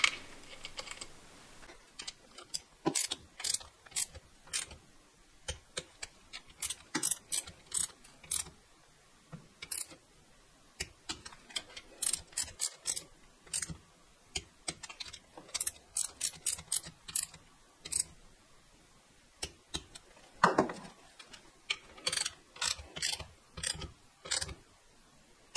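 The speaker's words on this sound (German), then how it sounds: "Die vier werden mit einer 10er Nuss und 10 Newtonmeter festgezogen." A ratchet with a 10 mm socket tightens bolts to 10 newton-metres on the engine block of a BMW M50B25 during a rebuild, giving fast, sharp metallic clicks in irregular bursts with quiet handling noises between them.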